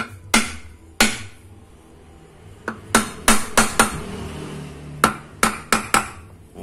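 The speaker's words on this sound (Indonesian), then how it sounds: "kita tutup sedikit ya, pakai palu yang sangat-sangat bagus ini ya." Hammer tapping a fitting onto a jet pump being converted into a pond pump, heard as a dozen or so sharp metallic strikes in irregular bursts, close and clear with no talking.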